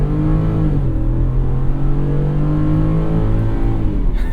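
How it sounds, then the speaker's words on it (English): A 5.0-liter V8 engine in a 2025 Ford F-150 Tremor pickup rumbles deeply up close, its pitch rising and falling as it revs, a steady loud growl throughout. "It's that V8 engine."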